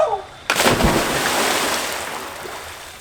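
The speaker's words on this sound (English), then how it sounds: "Deep means jumping. And that's the best way to get into cold water." A person jumps into deep, cold water with a sudden loud splash, then the water rushes and fizzes, trailing off slowly over a few seconds. A short voice shout comes just before the plunge.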